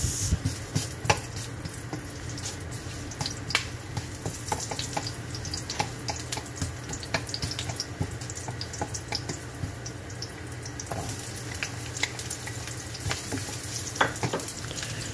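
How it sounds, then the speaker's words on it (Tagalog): Ginger and onion sautéing in a pan for a zucchini and sardine dish, giving a continuous soft sizzle with scattered stirring scrapes and ticks, moderately close and without talk. "Habang ginigisa natin ang luya, ay isunod natin ang sibuyas."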